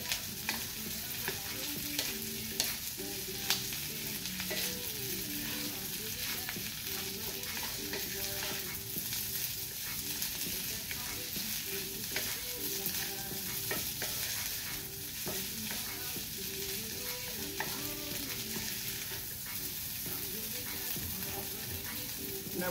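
Thai basil fried rice stir-fries in a skillet, a continuous loud sizzle with repeated scraping and stirring strokes of a utensil against the pan throughout.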